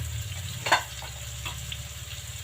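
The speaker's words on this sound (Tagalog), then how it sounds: "Ang hirap tayo magprito ng bangus." Milkfish (bangus) fries in hot oil, a close, steady sizzle with a sharp spattering burst partway through and scattered pops, no talking.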